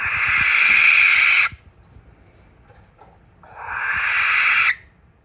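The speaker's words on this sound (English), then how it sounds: "Barn owl, or Tyto alba." Two long harsh rasping screeches from a barn owl (Tyto alba), each about a second and a half, loud and close, separated by a short quiet gap.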